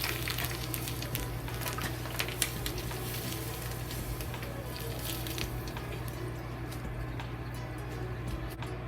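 Hot oil poured over a plate of steamed bass sizzles and crackles steadily, a close, continuous frying hiss with tiny pops throughout.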